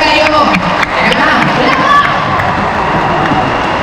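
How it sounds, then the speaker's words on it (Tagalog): A packed arena crowd at the Aim Global 16th anniversary event at MOA Arena applauds and cheers. The sound is a loud, dense, continuous roar of clapping and shouting that holds steady throughout. "gusto ko yung pinaka magiging todong palakpak po ninyo"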